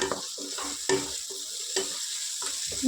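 Chicken 65 pulao stirred in a pan with soy sauce and chilli sauce, a soft sizzle under a few distinct scraping strokes of a spoon, roughly every second, close and without speech.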